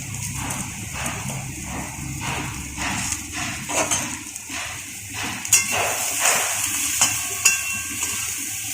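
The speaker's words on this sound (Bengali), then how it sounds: "আমরা আবারও বেগুনটাকে ভালো করে নেড়ে চেড়ে নেব" Eggplant frying in a pan with salt and turmeric is stirred, producing a rhythmic series of close scraping and tapping strokes over a low sizzle.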